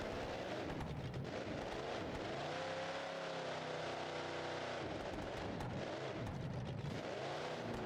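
A supercharged 555-cubic-inch Hemi monster truck engine in BeamNG.Drive roars loud and steady, its deep harmonic drone sweeping down and back up as the revs fall and climb again, with no voices.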